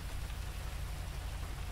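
Rain falls steadily in GTA 5 as a dense, even hiss with a soft pattering texture, alone at moderate level.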